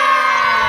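Children at a school tournament cheer together in a loud, bright burst of massed high-pitched shouting, close and continuous for a brief moment.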